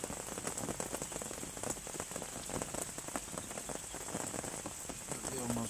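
Steady rain patters on a fishing brolly at a carp syndicate lake under trees, a dense continuous hiss of close drops with no talk.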